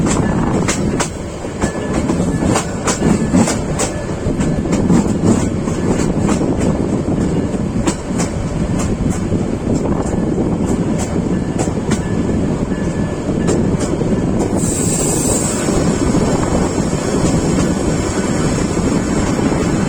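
Sonar Bangla Express intercity train pulling into Chittagong railway station: a steady, loud rumble of rolling carriages with repeated clattering wheel clicks, joined near the end by a high screech of braking.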